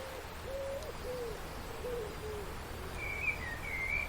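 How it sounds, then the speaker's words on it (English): Birds sing outdoors by a river and small waterfall against a steady background hiss, with a lower warbling call early on and higher, thin whistled notes near the end. "Can you hear the birds singing?"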